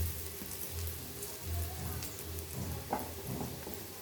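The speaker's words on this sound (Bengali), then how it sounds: "আর ওইদিকে আমি আলুগুলো ভেজে নিচ্ছি এই তরকারিটা করার জন্য" Potatoes fry in oil for a curry, giving a continuous rain-like crackle and patter over a low steady hum, with faint voices in the background.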